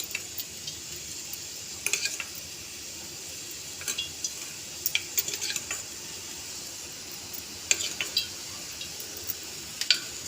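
Spoonfuls of cooking oil go into a hot pan for hagal kai, heard as a soft, steady sizzle broken by sharp, scattered spoon taps and clinks against the metal.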